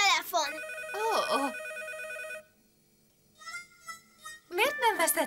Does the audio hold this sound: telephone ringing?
yes